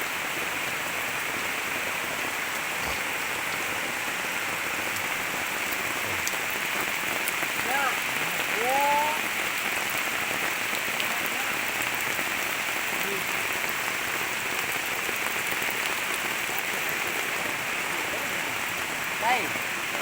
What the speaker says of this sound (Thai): ฝนตกเฮ็ดหยังบ่ได้